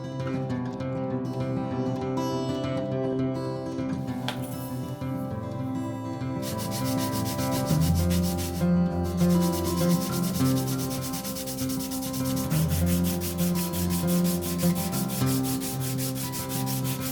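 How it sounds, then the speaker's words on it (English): Wooden necklaces being hand sanded with 150 grit sandpaper, a continuous close scratchy rubbing in long back-and-forth strokes, with a hum running underneath and no talking. "now I'm using 150 grit"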